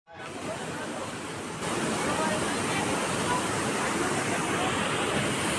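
The Ban Ganga stream on the Vaishno Devi pilgrimage route, a clear mountain stream rushing loudly and steadily as broadband flowing water, close and continuous with no pause.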